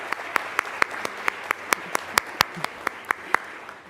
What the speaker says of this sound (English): Let's give Vivian a round of applause